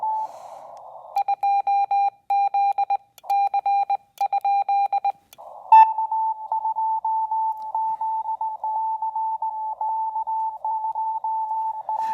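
Short bursts of steady beeping Morse code tones on a ham radio in a dot-dash rhythm over faint hiss, then a longer run of evenly keyed beeps, with an audio pop.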